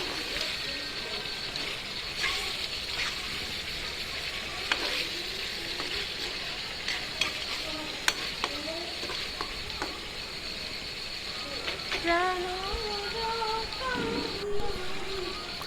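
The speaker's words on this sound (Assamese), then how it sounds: "ধুনীয়াকৈ অকণমান লৰাই দিলোঁ।" Assamese mutton curry with potatoes sizzles steadily in a pan while a utensil stirs it, adding intermittent scrapes and clinks. A voice is faintly heard briefly near the end.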